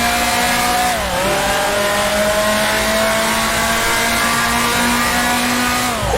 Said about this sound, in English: Try to get on the throttle quite soon to build up those RPMs